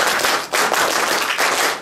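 A group of people at the end of a meeting clap together using their elbows, making a dense, crackling burst of claps that swells three times in under two seconds, close and loud.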